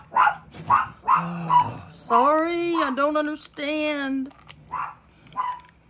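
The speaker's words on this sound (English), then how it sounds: "can you go close the front door so they'll stop barking?" Several dogs bark, yip and whimper close by in a home kitchen during cake baking, with short loud bursts repeated across the clip, some whiny and drawn out, interleaved with people talking.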